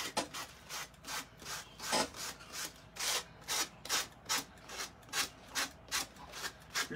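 Steady rhythmic rasping strokes of metal being sanded by hand, back and forth about twice a second, close and fairly quiet with no talking.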